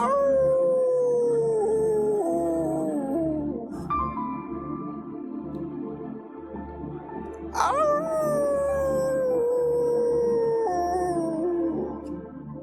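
A human voice imitates dog howls, with long wavering howls that rise and fall over a steady pre-made beat, set as a scary scene, with two main howl phrases.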